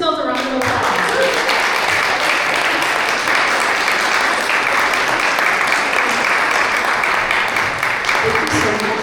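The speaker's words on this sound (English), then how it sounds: "So give yourselves a round of applause." A workshop audience at a music retreat claps loudly and continuously from start to finish, a dense wash of many hands with no pause.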